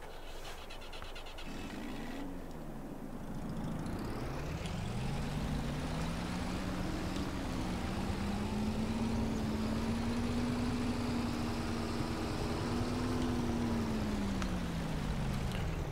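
A UAZ vehicle drives in Farming Simulator 22, its engine a steady, fairly loud drone that rises in pitch as it accelerates and then holds near a constant tone, with no talking.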